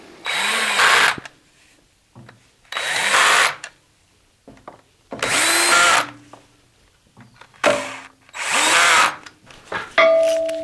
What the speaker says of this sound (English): that drill is set to the lowest setting, so just as soon as it gets any resistance, it stops spinning